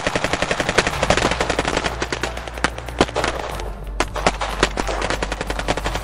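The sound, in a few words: gunfire from soldiers' rifles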